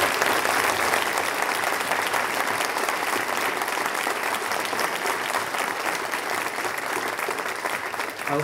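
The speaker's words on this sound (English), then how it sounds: "I would like you to give him a round of applause." Sustained, dense applause fills a university hall after a Q&A session with the vice-chancellor of Cardiff University, a steady wash of many clapping hands that holds for over eight seconds before easing slightly at the end.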